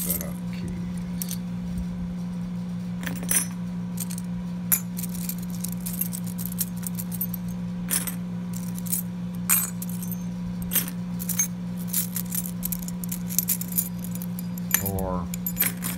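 A locksmith handles a bunch of rekeyed lock keys, making scattered metallic jingles and clinks over a steady low hum, with a brief voice near the end.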